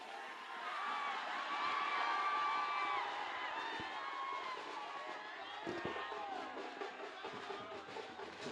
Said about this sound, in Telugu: మీరు అంతగా అరుస్తుంటే టెన్షన్ పడతారు ఎవరైనా.